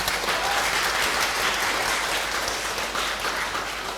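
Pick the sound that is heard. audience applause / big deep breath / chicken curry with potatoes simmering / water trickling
audience applause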